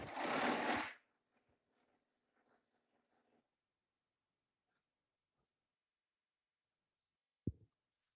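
A Baby Lock Triumph serger stitching the main seams of yoga harem pants, a brief loud whirring burst at the start, then faint scattered ticks and a single soft knock near the end.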